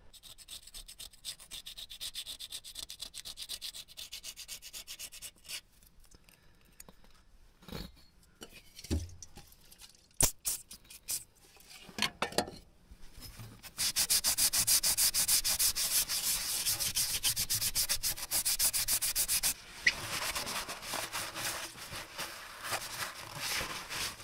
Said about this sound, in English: Looks like I need a razor blade to scrape that off, maybe grab an SOS pad.